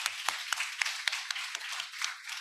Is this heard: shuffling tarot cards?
no